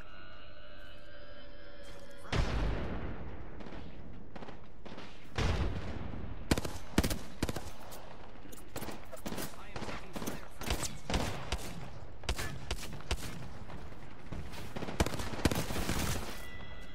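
Gunfire in Apex Legends, with a burst at about two seconds, then repeated sharp shots and rapid volleys crackling loudly through the rest, with no talk.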